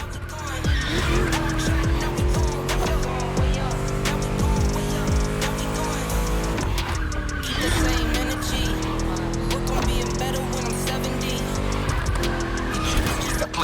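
A V8 race car in The Crew Motorfest racing game roars at full throttle, its engine note rising through gear changes with squealing tyres, loud and continuous under a music track.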